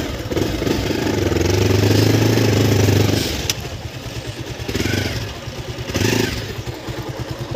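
A motorcycle engine runs close by on an off-road trail, a low rumbling idle that swells into a few throttle blips and revs, with some clatter and brief indistinct voices in the background.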